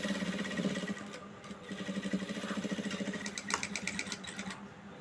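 A sewing machine stitching blouse fabric for maggam work, its needle chattering in a rapid steady mechanical rhythm close by, with a brief slowdown midway and some small rattles toward the end, no talk.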